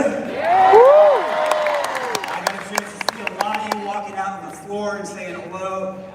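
A large audience at a D23 Expo Disney Parks panel cheers and whoops with scattered claps, a loud swell early on that thins out while a voice talks over the crowd.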